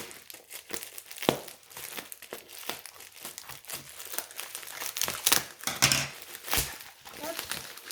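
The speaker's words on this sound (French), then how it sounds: "c'est super bien emballé, franchement top. Regardez, avec du papier bulle et tout. Alors, c'est scotché." Taped bubble wrap packaging being unwrapped at close range, with a steady stream of loud crinkling and crumpling plus sharp tearing bursts of tape.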